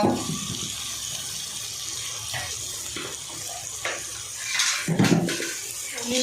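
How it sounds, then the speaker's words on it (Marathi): Water poured into a cooking pan of oil while making shengole at home: a steady splashing pour running throughout, swelling louder near the end. "तर हे पाणी आहे, हे याच्यामध्ये टाकून घ्यायचं"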